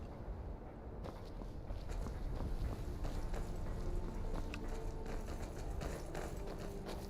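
A horse's hooves trot in the video game Skyrim, a steady, soft clopping rhythm that runs continuously and sits quietly in the mix.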